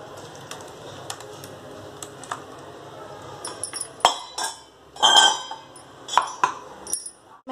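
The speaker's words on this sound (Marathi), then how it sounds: "चाळणीनं आपण कढईमध्ये गाळून घेऊयात." Tomato and onion puree being pushed through a metal sieve into a pan for homemade ketchup, with soft scraping and a series of sharp clinks and taps of spoon on mesh and metal, close and intermittent.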